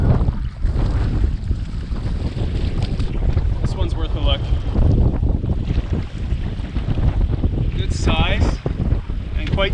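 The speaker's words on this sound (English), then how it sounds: "This wind is getting too intense." Strong wind gusts over a lake on a fishing trip, roaring constantly into the microphone with loud buffeting and some water sound from a small boat.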